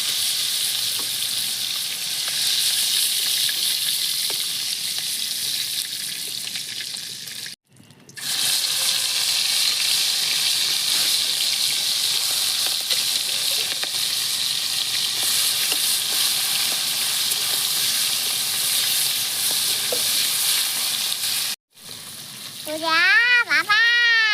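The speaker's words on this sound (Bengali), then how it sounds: "ফিফটি সিক্সটি পার্সেন্ট মতন চিংড়ি মাছটা আমি ভাজে নেবো" Prawns shallow-frying in oil in a pan for a green coconut prawn dish, giving a loud, steady sizzle that runs throughout with two brief gaps, plus a short burst of higher tones near the end.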